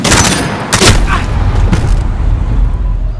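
Loud gunfire in the Call of Duty: Modern Warfare video game, bursts of shots and booming blasts packed close together over the first half, then a dense, continuous rumble of battle noise.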